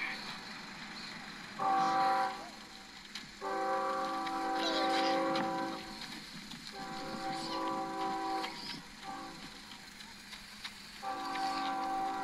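A train on the Carlsbad subdivision sounds repeated loud, sustained horn blasts in several long and short bursts over a steady rumble of passing rail cars, heard outdoors from trackside.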